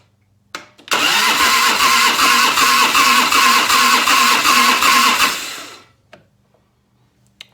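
A 1990 Harley Davidson FLHTC Evo motorcycle engine is cranked for about five seconds with a loud, rhythmic pulsing churn, then falls quiet, with a few faint clicks before and after.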